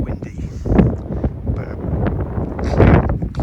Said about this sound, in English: it is blowing an absolute gale out here